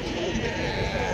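Sheep bleat amid a busy Tuesday livestock market in Azrou, Morocco. The cries are partly buried in steady crowd noise and nearby men's chatter.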